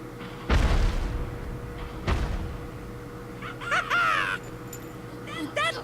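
Crow cawing in the Ni No Kuni video game, two heavy thumps followed by several harsh raspy caws, loud and close, mixed with game voices and effects.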